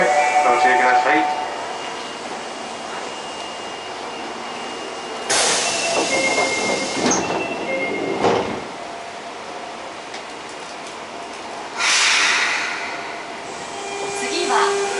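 An Osaka Metro 22 series train with Hitachi GTO traction equipment runs on the line, giving a steady rolling drone with shifting motor tones and louder rushes at several points. No voices are heard over the running noise.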